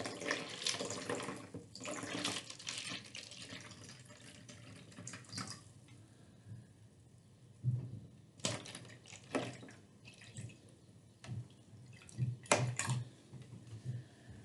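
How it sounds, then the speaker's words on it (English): Water running from a tap into a water tower model, with intermittent splashing bursts and a few small drips, fairly quiet and without talk. "start filling up the water tower"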